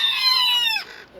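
Newly hatched bantam chicks cheep in one short, high, bright peep chorus, close and fairly loud, which ends abruptly with a brief faint tail.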